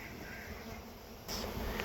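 Honey bees gathered around a hive buzz in a steady, faint swarm drone that swells slightly louder near the end.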